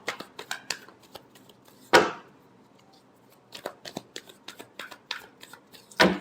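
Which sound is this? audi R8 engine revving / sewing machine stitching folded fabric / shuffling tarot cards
shuffling tarot cards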